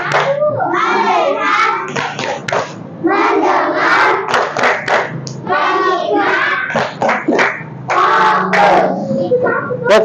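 A classroom of children performs the 'tepuk fokus' clapping chant, rhythmic group claps mixed with loud chanting voices, energetic and continuous throughout.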